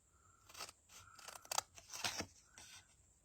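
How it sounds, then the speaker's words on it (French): Scissors snip through paper or card in a quick series of sharp crisp cuts, close and fairly quiet, with short pauses between strokes. "je coupe aussi"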